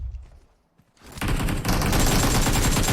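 A sudden, dense burst of rapid gunfire in the video game PUBG Mobile. It follows a brief quiet moment and stays loud and sustained to the end.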